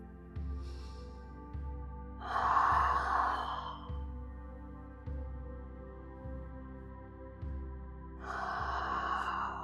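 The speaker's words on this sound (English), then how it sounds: "Deep breathing." Slow, deep breaths during an Ashtanga yoga stretch, two long airy inhales or exhales several seconds apart, close to the microphone over a steady low rhythmic pulse of background music.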